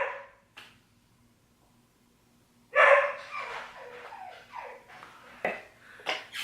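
Several sharp dog barks and yips burst out in a close, irregular cluster after a quiet stretch, then trail off into scattered yaps.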